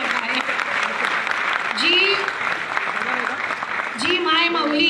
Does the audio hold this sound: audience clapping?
yes